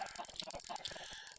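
Chickens in a video game chicken farm with 185 birds cluck in a dense, overlapping chorus, steady and fairly quiet, with no talk.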